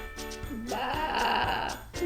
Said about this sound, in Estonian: Lambad.